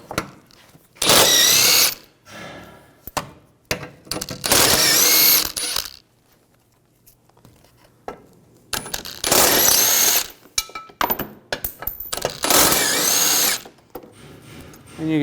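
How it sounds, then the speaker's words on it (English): Bolts on the front impact absorber of a 2011-2018 Volkswagen Jetta come out with a 16mm socket on a power tool: several loud, rattling ratchet-like bursts of a few seconds each, separated by short quiet gaps. "Using a 16mm socket, take these 4 bolts out."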